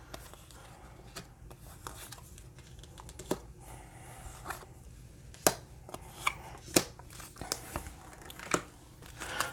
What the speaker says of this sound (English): thanks for being patient with me while we go ahead and get all the cards pulled